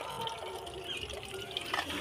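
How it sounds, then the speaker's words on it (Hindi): Tap water runs steadily while fish is washed in a kitchen, a continuous hissing splash at moderate volume with a few brighter spatters near the end and no voices. "मछली धो रहे हैं।"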